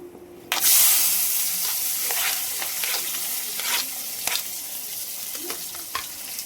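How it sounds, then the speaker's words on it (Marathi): Onion and cinnamon sizzling in hot oil, a steady loud frying hiss with occasional stirring scrapes and pops, close up, with no talking. "तेलामध्ये भाजून घ्यायचं आहे आपल्याला. आता याच्यामध्ये आपण टाकणार आहे बघा कांदा"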